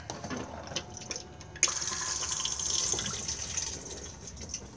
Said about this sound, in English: Push to flush on the top.